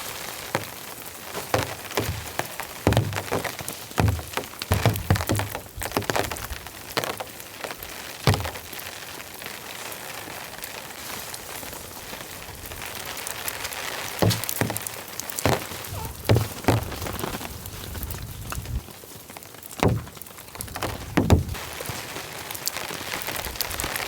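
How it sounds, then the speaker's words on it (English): Steady rain from a heavy rainstorm patters and drums on a surface at a bushcraft camp throughout, with scattered louder drops and cracks standing out against the continuous wash. "Rain's coming in."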